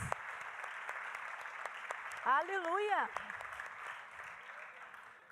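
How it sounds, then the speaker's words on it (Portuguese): Church congregation applause rolls on as a continuous patter, while a voice calls out a shouted exclamation partway through. "Aplauda Jesus."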